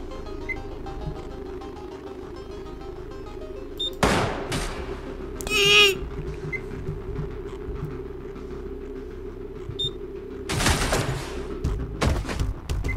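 Gunshots in the video game Receiver: a few isolated sharp cracks spaced several seconds apart, fairly loud against a quiet background hum with faint beeps.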